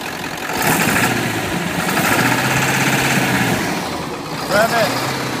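A 2001 Ford F550 pickup with a 7.3L diesel runs with an uneven, rough idle and a misfire, a steady low rumble swelling briefly as it revs, heard close with a voice speaking nearby.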